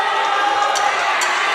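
A basketball crowd roars and cheers loudly and steadily throughout a brief stretch of a game, with a few sharp peaks rising above the dense noise.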